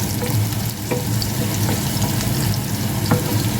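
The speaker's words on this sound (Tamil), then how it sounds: "கட்டி வந்து சூடாகிட்டு மீடியம் ஹீட்டில் விட்டு வதக்குவோம்" Steady frying sizzle from ingredients sautéing in a hot pan over medium heat, with faint scraping stirs, continuous and fairly close, no talking.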